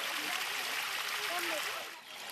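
A small stream flows and trickles steadily, with bright babbling water close by and a faint dip near the end.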